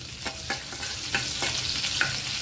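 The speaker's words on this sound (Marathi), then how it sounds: "थोडे जिरे टाकणार आहे. जिरं चांगलं फोडून घ्यायचं." Cumin seeds crackling and sizzling in hot butter and oil, a close, steady frying hiss dotted with small sharp pops.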